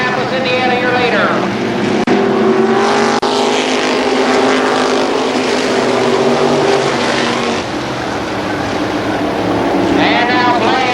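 Modified race cars roar continuously at Columbus Motor Speedway, a loud sustained engine drone with rising and falling pitch sweeps as cars pass down the front stretch, under a race announcer's steady commentary.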